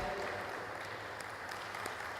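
At a Nigerian Bar Association 2024 elections manifesto day, the audience applauds to welcome the alternate chair. The clapping is dense, continuous and steady through the whole short stretch.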